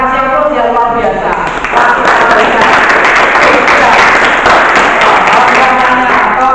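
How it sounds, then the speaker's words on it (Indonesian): Classroom audience breaking into sustained applause, steady clapping from many hands filling the room at close range, with some voices mixed in beneath it. "Kita kasih aplaus ya, luar biasa."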